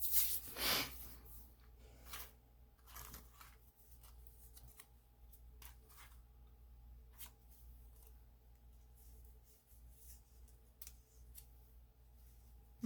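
Scissors trimming off excess, a few sharp close snips near the start followed by sparse faint clicks and rustles over a low steady hum.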